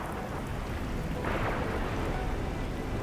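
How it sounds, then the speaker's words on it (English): Steady, dense rain pours without pause in the video game Arknights: Endfield, with a low rumble of thunder rolling in midway through the downpour. "It's raining harder. I can't hear anything except for the rain."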